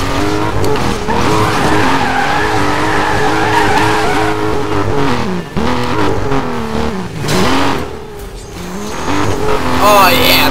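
A car drifts in the Need for Speed Most Wanted video game, its tires skidding and squealing over a steady, revving engine roar that swells and dips throughout, loud and close, with a voice or game audio mixed in.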